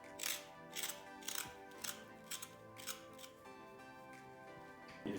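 Galangal being chopped into smaller pieces for Thai green curry paste, a series of crisp, quiet cutting strokes in uneven bursts, close up with no talk.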